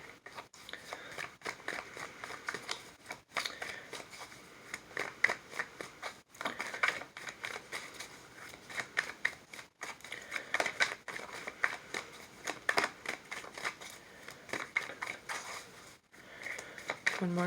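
Tarot cards are shuffled repeatedly in bursts of rapid riffling and flicking, with short pauses between rounds, close and fairly quiet.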